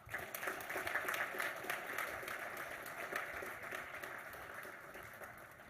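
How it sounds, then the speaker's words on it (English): Faint, distant applause from an audience at a college athletics hall of fame induction ceremony, dense clapping that swells and then slowly tapers over several seconds. "One final round of applause for Ellen."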